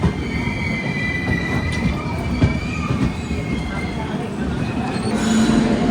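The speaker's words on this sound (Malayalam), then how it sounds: "ഇത് അർസിക്കേരിയിൽ നിന്ന് ഹൂബ്ലിക്ക് പോകുന്നൊരു എക്സ്പ്രസ് ആണ്." An express train running from Arsikere to Hubli passes on the adjacent track, heard from inside a moving AC sleeper coach as a continuous close rumble of wheels and rails with faint squeals.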